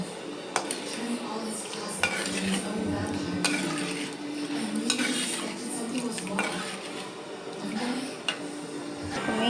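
Salt stirred into a pot of simmering Tamil fish curry, meen kulambu, a spoon scraping and clinking against the metal pot in an irregular rhythm over a steady bubbling sizzle, close and fairly loud, with no talking.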